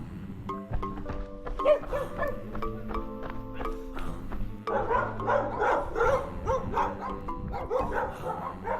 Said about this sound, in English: A lot of dogs here, and it's spooky actually.